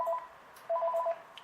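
A cordless phone rings with short electronic tone bursts, a brief chirp followed by a quick warbling series, faint and close.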